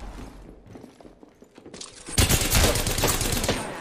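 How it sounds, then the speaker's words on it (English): Gunfire in Apex Legends: quiet game noise at first, then a loud burst of rapid shots erupting about halfway through and continuing to the end. "Opening fire."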